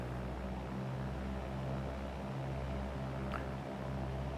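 Steady drone of a simulated Cessna engine held at 2,000 RPM during a pre-takeoff run-up in X-Plane 11, a continuous low hum with faint broadband noise throughout, no talk.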